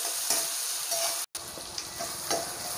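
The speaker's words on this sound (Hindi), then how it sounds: "इसे भी अच्छी तरीके से फ्राई करना है हमें" A steady sizzle of ginger garlic paste frying with onions in ghee in a pan, with soft stirring scrapes close by and no voices.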